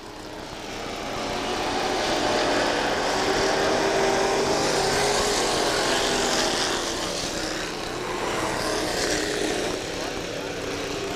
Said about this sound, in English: Green flag flies, and we are racing once again.